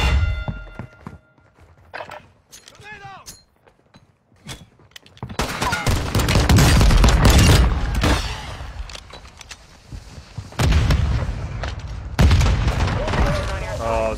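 Gunfire in Call of Duty Warzone 2.0 heard up close: a few sparse thuds and shots at first, then dense loud bursts of rapid fire with booms, easing off briefly before another burst.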